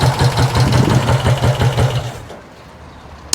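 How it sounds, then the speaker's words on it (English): Vincent Rapide 1000 twin motorcycle engine idling nearby with a loud, lumpy, pulsing beat for about two seconds before being switched off, leaving quiet and a faint click. "Just kill the engine off so you can hear me talking."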